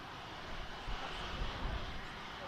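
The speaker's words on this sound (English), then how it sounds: "Get the Ryanair rotating" A Ryanair jet airliner rotates on its takeoff roll, its engines a steady broadband rumble at moderate distance with a few swells in loudness, and no voices over it.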